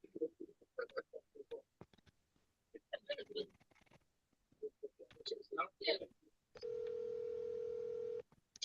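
A FaceTime call ringing out during a phone-a-friend round of a quiz game: a steady electronic ring tone near the end follows several seconds of chatter and mouth sounds.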